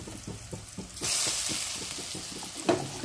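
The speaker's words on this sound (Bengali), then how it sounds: "এরপর আমি ডালগুলোকে এর সঙ্গে ভাজবো।" Lentils fry in a pan for dhokar dalna with quick spatula scrapes, then a strong sizzle rises and stays close, with one sharper clack near the end.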